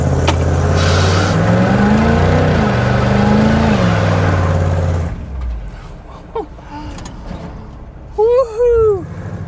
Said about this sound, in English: I'm gonna do a small 180 here, or attempt to, so you guys can see what I'm talking about the tire spin